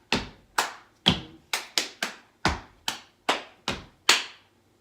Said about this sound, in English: Stomp, clap, hit, hit, stomp, hit.